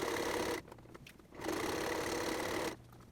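A sewing machine stitches a wrap for a throwing axe handle in two loud, steady whirring runs, separated by a short quiet pause, with a faint knock in the gap.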